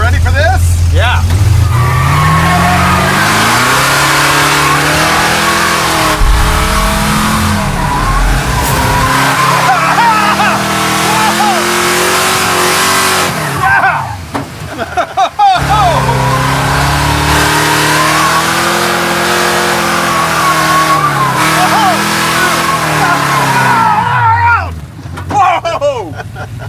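A boosted 1940 Ford accelerating hard, its engine revving loud and close with rising and falling pitch through gear changes and tire noise, with people talking over it.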